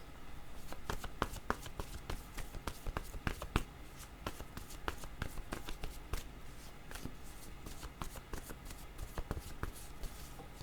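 Word cards for a card reading are shuffled continuously by hand, giving a close, steady stream of crisp flicks and slaps at an irregular rhythm, moderately quiet and without talk.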